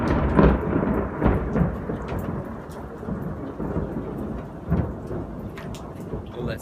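Rain pours steadily during a thunderstorm, with several rolling thunder rumbles rising and fading over about seven seconds. The storm sounds fairly close and fills the scene, with no voices.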